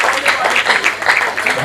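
Audience clapping at a Hindi poetry gathering (kavi sammelan) in Shahjahanpur, a short, loud burst of rhythmic claps lasting under two seconds.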